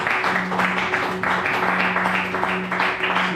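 A church congregation breaks into loud sustained applause, dense clapping from many hands filling the room with a steady wash, near and continuous throughout.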